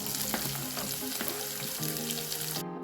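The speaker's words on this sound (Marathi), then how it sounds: "आता आपण ह्याच्यात कांदा टाकून घेऊ." Onion with chillies frying in a pan, a steady close sizzle with occasional stirring clatter, no talk.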